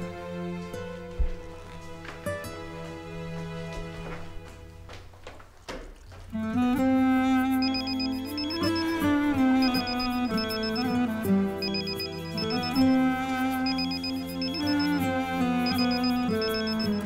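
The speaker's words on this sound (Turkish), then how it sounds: "Sen niye açmıyorsun telefonu?" A telephone rings in a Turkish drama scene, a melodic ringtone with repeating tonal phrases that grows louder and fuller after a quieter opening, with no talking during it.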